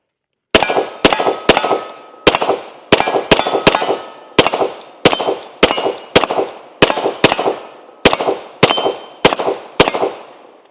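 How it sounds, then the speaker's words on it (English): A Glock 17L Gen 5 pistol's shots hit steel targets outdoors, producing about eighteen sharp, loud metallic clangs in quick groups, each ringing briefly before the next. "let's take our last few shots with it right here"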